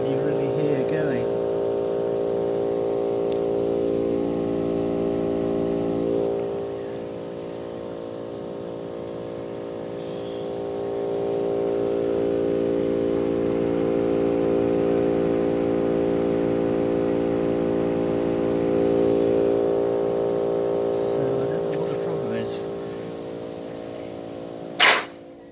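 A Bosch Climate 5000 air conditioner's outdoor inverter unit with a noise fault, running with a steady, loud, droning hum that swells and eases slightly over a long stretch and has faint background sounds.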